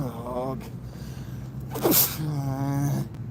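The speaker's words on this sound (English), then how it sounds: "I'm gonna sneeze." A single sharp sneeze bursts out in the middle, brief and close, with a voice talking just before and after it.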